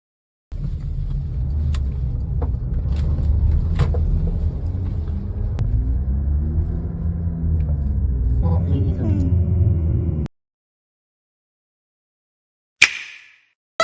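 A used Porsche Macan with a fault that needs repair, driving steadily for about ten seconds with a continuous low engine and road rumble, then a short gap and a brief sharp knock near the end.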